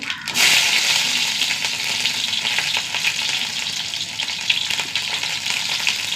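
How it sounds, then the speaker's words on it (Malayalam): Mustard seeds sputter and crackle in hot coconut oil in a pan, a dense and continuous close sizzle with small pops that lasts the whole time, no talking. "കുറച്ച് വെളിച്ചെണ്ണ ഒഴിച്ച് കൊടുക്കുക. എണ്ണ ചൂടാവട്ടെ. കുറച്ച് കടുക് ഇട്ട് കൊടുക്കുക."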